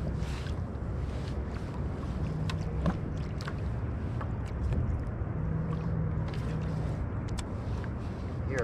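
A boat approaches from a distance, heard from a fishing kayak on the water as a low, steady rumble under wind noise and light splashing.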